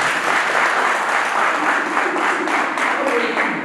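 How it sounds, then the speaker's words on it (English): A debate audience at a financial literacy week event claps for the first speaker, producing a loud, continuous wash of applause that stays even throughout. "A round of applause for the first speaker."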